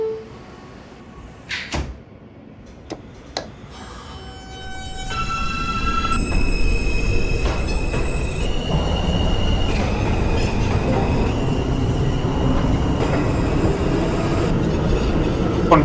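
An R160A subway train in a simulator pulls out of a station on a Manhattan-bound R run, a rising motor whine with steady stepped tones climbing over loud wheel and track rumble, preceded by a few door thumps and clunks.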